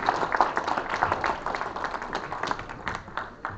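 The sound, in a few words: applause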